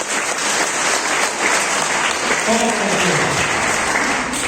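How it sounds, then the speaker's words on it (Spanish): Church congregation applauding together, a steady wash of clapping hands that swells and then fades, with a voice speaking over it. "Vamos a aplaudir."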